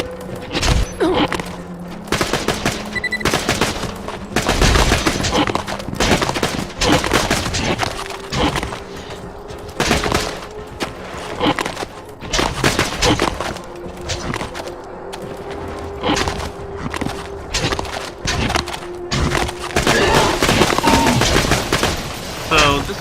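Shotgun and pistol gunfire in the Borderlands video game cracks out in rapid, loud, dense volleys for the whole stretch, with occasional brief lulls and game music running underneath.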